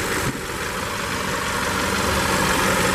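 A 2015 Hyundai Santa Fe Sport's 2.4-liter GDI four-cylinder idles with a steady, even drone that stays constant and fairly close throughout, with no one speaking over it.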